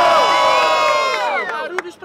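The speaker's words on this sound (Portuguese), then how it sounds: "Barulhos pra quem gostou da rima do KG" Crowd at a Brazilian street rap battle in Guarulhos cheering and whooping loudly in a sustained roar, with shouts and whistles fading toward the end.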